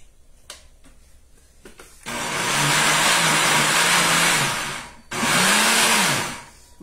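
An electric mixer beats chocolate cake batter, switched on for a loud, steady whirring run of about three seconds, cutting off briefly, then starting again for a second shorter burst with a dipping motor tone.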